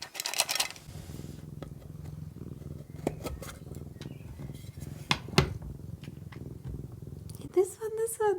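A pet cat purrs in a low, steady rumble while eating treats from a metal tin. Sharp clinks and scrapes of the tin break in at intervals, and a voice speaks briefly near the end.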